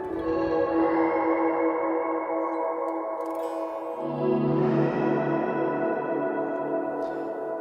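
Electric guitar run through an Explode effects plugin, sustained distorted tones with heavy echo and chorus-like shimmer, the pitch sliding downward around the middle, loud and continuous with no talking.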